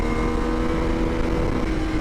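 Steady engine drone from a Ducati Scrambler Sixty2 400cc motorcycle under acceleration, a continuous buzzing hum with no clear gear change across the short span, heard alone without talk.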